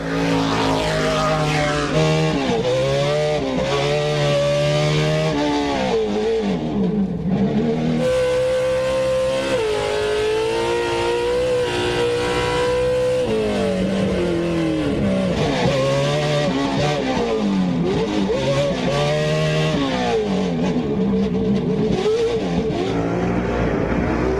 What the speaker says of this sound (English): we love the sound of these big engines